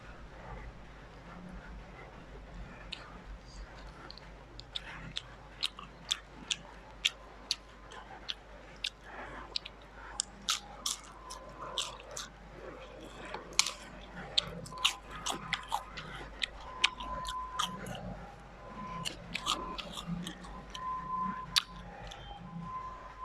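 Raw vegetables, including carrot and jengkol, and crunchy kerupuk crackers being eaten close to the microphone, with steady crisp bites, crunches and wet chewing throughout over a quiet background.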